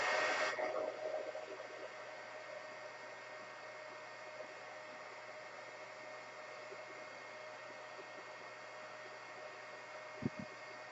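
Heat gun running while shaping modeling film flowers held with tweezers, a steady faint hiss and whir that starts loud, settles to a constant quieter drone, with a couple of small clicks near the end.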